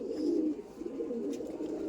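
A pet pigeon coos softly and steadily nearby, a low continuous throaty murmur with nothing else heard.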